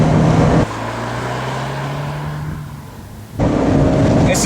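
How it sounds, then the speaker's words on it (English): A Fiat 124 Spider sports car engine drones steadily while driving, a low tone holding then easing off before loud road and wind roar returns near the end. "listen to that engine"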